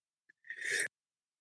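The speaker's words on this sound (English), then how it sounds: "I, for whatever reason, had a sneeze there." A single short sneeze close to the microphone, with a quick intake of breath just before it, then silence.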